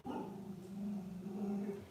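A pet dog giving a drawn-out whining, yipping vocalization, fairly close and moderately loud, sustained for a couple of seconds with no talking.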